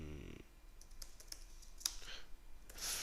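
Quiet, scattered keystrokes and clicks on a computer keyboard while writing Java code, soft and close with uneven pauses, no talking.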